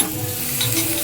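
A pot of dal bubbles and sizzles on the stove, a steady close hiss with soft bubbling and occasional stirring, no talk.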